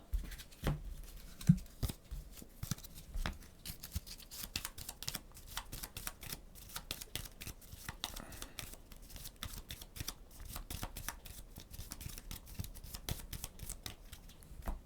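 Playing cards are discarded and drawn during a tabletop game of Astro Knights: a long, dense run of close papery slaps, flicks and shuffles with brief pauses, and no talking.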